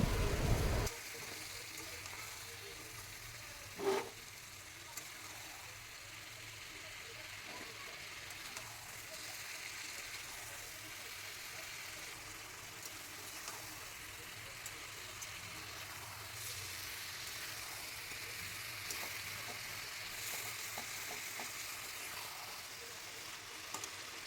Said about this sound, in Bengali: এবার আমি যে পেস্ট তৈরি করে রেখেছিলাম মশলার, সেটা এখানে আমি ঢেলে দিলাম, দিয়ে ভালোভাবে মিশিয়ে নেব।